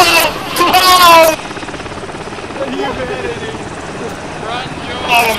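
A helicopter thrums as a continuous low rotor wash beneath loud, excited shouting voices that burst in at the start and again at the end, the engine noise sitting steadily in the background.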